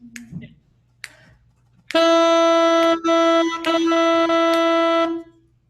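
A reed instrument sounds two sustained, steady notes, each about a second long with a brief break between, after a few soft clicks.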